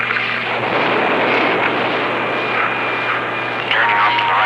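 Roaring engine noise at the launch of an X-15 rocket plane in 1960, a loud broad continuous rumble with a steady hum beneath, while a voice can be heard under the din.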